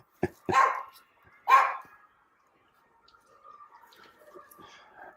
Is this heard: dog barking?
yes